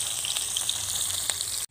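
Tamban sardines fry in a little cooking oil, a steady close crackling sizzle with scattered pops that cuts off abruptly at the end, and no talking.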